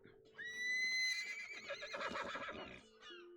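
A horse in the PC game Might & Magic X whinnies loudly with a long rising and shaking neigh, then snorts, set against a soft steady tone in the background.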